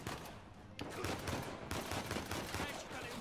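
Gunfire in the video game Uncharted 4, dense rapid shots forming a loud continuous barrage throughout, with a sharp burst near the start.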